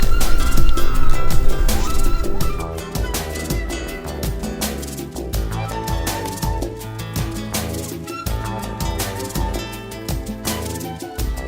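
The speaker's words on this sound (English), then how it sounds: "As soon as the donkeys saw the village, they started going nuts, honking at their friends over here in the farm." Donkeys bray loudly and continuously at a village farm in Peru's Sacred Valley, calling out repeatedly with no voices over them.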